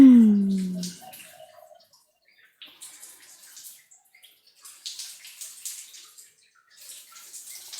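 Water runs and splashes softly in a bathroom, sounding like a tub or tap in use, in uneven faint bursts. A brief voiced sound comes at the start.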